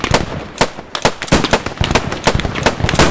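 Rapid gunfire in Squad, a tactical shooter on PC, loud sharp shots fired in quick irregular bursts and strings, close and dominant, with no talk.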